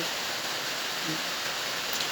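Steady, even rain hiss, a dense wash of falling water with no voices or other distinct sounds.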